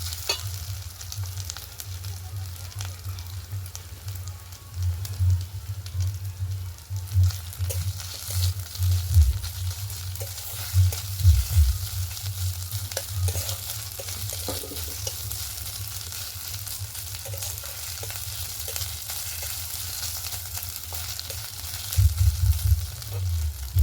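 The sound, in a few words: onions frying with ginger garlic paste in a pan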